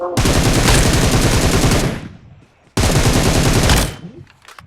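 Rapid automatic gunfire in a video game, two long loud bursts of machine-gun fire separated by a brief pause, each ending in a fading tail.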